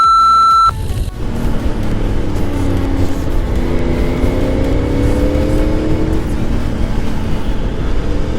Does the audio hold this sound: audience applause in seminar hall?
no